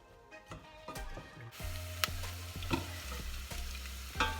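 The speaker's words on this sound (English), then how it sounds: "we're just gonna cook the onions in the olive oil until they go kind of clear" Onions cook in olive oil in a pan, a soft, close sizzle that swells after a few stirring clicks and scrapes, staying fairly quiet with occasional sharper ticks.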